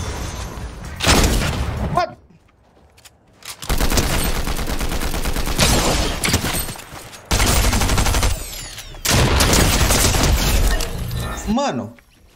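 Dense bursts of rapid gunfire from the video game Fortnite come in three long volleys separated by short gaps, loud and close, with a player's voice briefly heard near the end.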